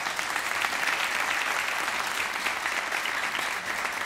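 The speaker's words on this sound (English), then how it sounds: "deserves a round of applause" A hall audience at a 2022 devotional vocal performance breaks into continuous applause, a thick, uniform wash of many hands clapping at steady volume for several seconds with no speech over it.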